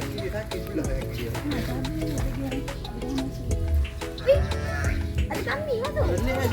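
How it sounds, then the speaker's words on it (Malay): A goat bleats several times in a wavering, nasal call amid farm background noise at a Kelantan dairy cattle farm, with people talking loudly over it throughout. "Ada kambing lah tu"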